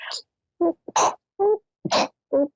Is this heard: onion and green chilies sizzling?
no